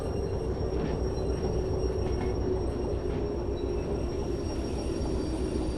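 A train running in the railway game Derail Valley gives a continuous low rumble of rolling wagons and wheels on track, a dense steady roar with faint high squeals above, no voices.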